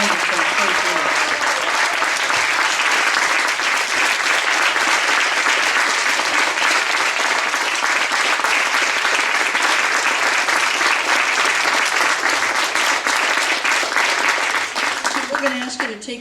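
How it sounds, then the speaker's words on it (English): Sustained audience applause for faith leaders at an interfaith evening, a dense, loud wash of clapping lasting many seconds and fading at the end, with voices mixed into the crowd. "could we have another round of applause for these wonderful faith leaders?"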